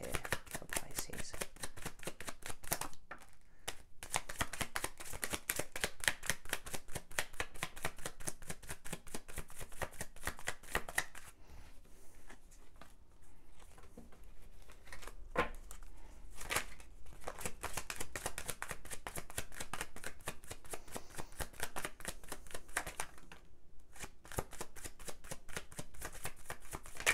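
Tarot cards shuffled continuously for about half a minute, a close, quiet stream of rapid papery riffles and snaps with brief pauses between bursts, no voices heard.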